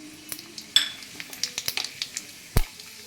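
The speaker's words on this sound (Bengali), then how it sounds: "এবারে দেখো আমি কতগুলো গোটা গরম মশলা, জিরে, শুকনো লঙ্কা, একটা তেজপাতা, এগুলো আমি ফোড়নের মধ্যে দিয়ে দিলাম।" Whole garam masala, cumin, dry red chilli and a bay leaf drop into hot oil for tempering a paneer dish, giving quiet crackles and sizzling with a few sharp clinks of a utensil against the pan, close up.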